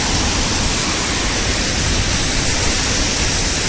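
Heavy rain pours on a highway near the Dubai border, a dense, steady broadband roar of downpour and wet road noise that stays constant and loud throughout, with no distinct vehicle passes standing out.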